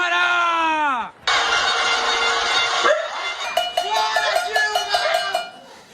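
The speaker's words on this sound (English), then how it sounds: "People were banging their pots," Pots clang in a street protest in São Paulo, Brazil, a dense metallic banging that starts after a loud tonal blast and continues with rapid, ringing strikes mixed with distant shouting.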